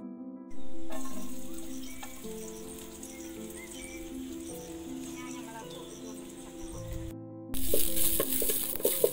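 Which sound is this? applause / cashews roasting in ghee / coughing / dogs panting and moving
cashews roasting in ghee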